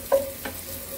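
Onion paste hits a hot pan in home-style Bengali cooking, giving a brief stir and sizzle with a soft scraping pass midway, all within about a second.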